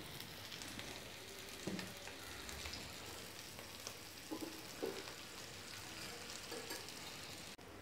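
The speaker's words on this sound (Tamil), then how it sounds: "தோசைக்கல்ல கொஞ்சம் சேர்த்து தான் எண்ணெய் விட்டு தான் இதை வேக வைக்க முடியும்" Mushroom cutlets shallow-frying in oil on a dosa griddle, a soft continuous sizzle with faint crackles and a few light taps, quiet and close.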